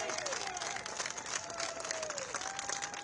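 Crowd applause and scattered cheers at an outdoor rally outside the Capitol, steady clapping with a few whistles rising over it.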